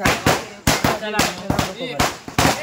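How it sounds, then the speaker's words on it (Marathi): Firecrackers burst in a rapid irregular string of loud, close bangs, about seven in under three seconds, during a village Ganpati procession, with voices faintly underneath. "फटाके लाव ना वाटेत फटाके लावलो"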